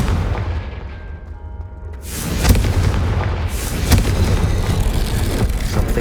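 A Confringo spell blast goes off in Hogwarts Legacy, heavy booming explosions with a rumbling low end and a sharp burst midway, loud and continuous amid game noise.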